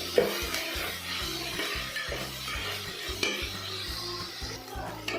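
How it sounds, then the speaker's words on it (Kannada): A pan of food frying with salt for a horse gram dish makes a soft sizzle under repeated scraping and stirring strokes with occasional spoon clinks, with no voices heard. "ರುಚಿಗೆ ತಕ್ಕಷ್ಟು ಸಾಲ್ಟು, ಹಾಕೊಂಡು ಚೆನ್ನಾಗಿ ಫ್ರೈ ಮಾಡ್ಕೋಬೇಕು"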